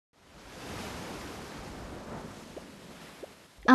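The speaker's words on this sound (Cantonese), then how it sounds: "係啊，你可以透過耳邊嘅貝殼聽到風聲。" A seashell held to the ear gives a steady, soft, wind-like rushing hush that holds evenly for several seconds, with a couple of faint ticks and a short louder burst at the very end.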